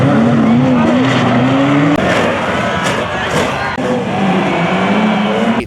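Race cars roar around the Alexandra Speedway track during a 100-lap event, a loud, continuous engine drone with shifting pitch as cars pass, backed by crowd noise.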